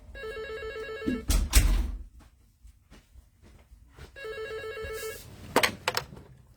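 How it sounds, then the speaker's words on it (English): An office telephone rings in two bursts of trilling bell tones, each followed by a brief clatter, with a quiet pause between them. "I got the phone ringing again."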